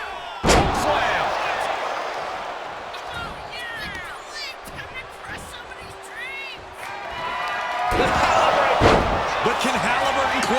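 A wrestling slam lands with a heavy thud in WWE 2K25's NXT mode, followed by arena crowd noise, while commentators talk throughout.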